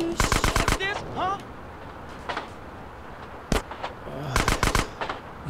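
Gunfire in GTA: San Andreas, sharp rapid bursts of automatic fire in several clusters with gaps between them, and someone talking quietly underneath.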